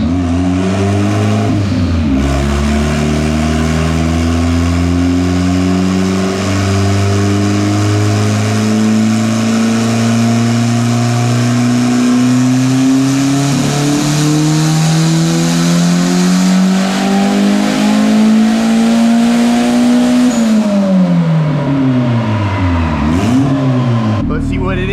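A turbocharged Honda engine blowing oil screams through a long third-gear dyno pull, its loud tone rising steadily for about twenty seconds before dropping off, with a few sharp blips and shouting voices beneath.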